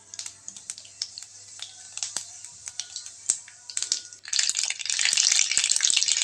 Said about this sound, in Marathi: तेल तापल्यानंतर मोहरी छान कडकडल्यानंतर त्यामध्ये टाकले मी जिरे